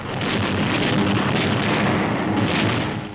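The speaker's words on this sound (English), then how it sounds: "Explosions and fires are sucking the oxygen from the air." Continuous roar of explosions and raging fires in a city under World War II bombing, a dense, loud rumbling wall of noise with no clear gaps, steady throughout.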